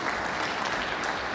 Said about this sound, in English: And the crowd are loving it.